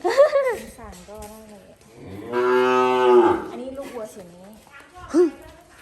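Cattle low and moo loudly nearby in a farm pen, several drawn-out calls with one long sustained moo in the middle, while people talk over and between them.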